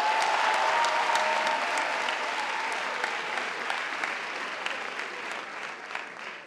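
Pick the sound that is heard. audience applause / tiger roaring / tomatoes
audience applause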